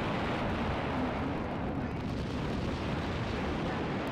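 Dense, continuous rumble of explosions and blasts from the mech combat game Battle Engine Aquila, a loud wall of booming noise with no clear gaps between bursts and no voices over it.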